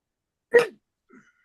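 A single sharp sneeze bursts out, followed by a brief faint sniff or breath, then quiet.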